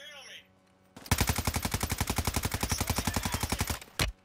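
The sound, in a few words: gunfire in video game Warzone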